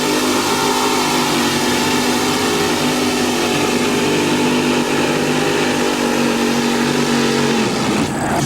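A mini rod pulling tractor at a 1994 USHRA 1850 class event in Bowling Green, Ohio roars at full throttle through a pull, loud and sustained with a steady droning pitch that drops off near the end.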